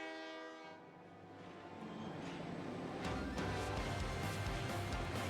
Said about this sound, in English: Let's go, dude. Train time.